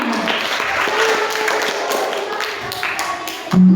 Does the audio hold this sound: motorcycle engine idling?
no